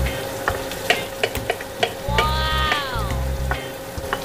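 Onion and ginger sizzle steadily in a hot pan for a Bisaya-style halang-halang, broken by sharp utensil clatters and a thin gliding whistle, with one brief exclamation from a voice.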